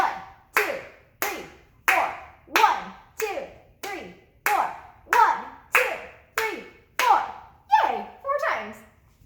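Hands clapping a steady beat in a rhythm exercise, about fourteen sharp, evenly spaced claps close by, with the last few slightly rougher.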